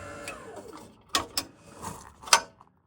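A DeWalt 12-volt battery-powered bike-rack lift lowers with brief mechanical whirring and a few sharp ratcheting clicks, close by and fairly quiet, ending in silence.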